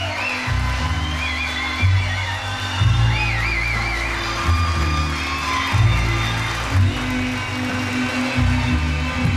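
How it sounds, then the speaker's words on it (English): An audience at a live tribute concert cheers and whoops with scattered shouts and steady applause, loud and close, while a bassy band plays underneath. "Let's hear a nice round of applause"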